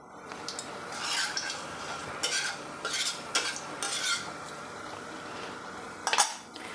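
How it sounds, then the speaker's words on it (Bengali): Spoon stirring fenugreek seeds and dried red chillies in a hot pan, a series of sharp metallic scrapes and clinks against the pan over a soft, low sizzle of oil, with no one talking. "আর দিচ্ছি শুকনো লঙ্কা দিয়ে আমি এটাকে একটু নাড়াচাড়া করব।"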